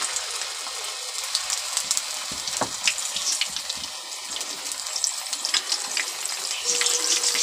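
Ground garlic and ginger sizzle in hot oil in a pan while the masala for chicken nihari is made, a steady crackling, hissing fry with small pops, close and moderately loud throughout, with no talking.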